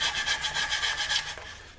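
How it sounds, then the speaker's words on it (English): A part from a Lyman Great Plains pistol kit, already filed, is rubbed by hand with 400 grit sandpaper, giving steady rhythmic rasping strokes, close and fairly loud, with no talking. "I'm going over with some 400 grit sandpaper here."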